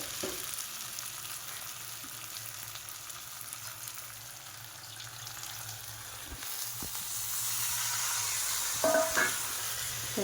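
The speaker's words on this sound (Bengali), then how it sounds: "এবার আমি জল দিয়ে দেবো" Water poured into a pan of fried spice masala for a pointed gourd and prawn curry, giving a steady close sizzle and hiss that swells louder toward the end, with a few faint clinks.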